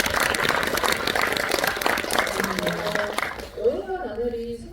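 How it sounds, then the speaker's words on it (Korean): Audience applause at a film screening talk in a cinema hall, broad clapping that holds steady then fades out, with a voice speaking as it dies away. "박수 한번 보내주세요"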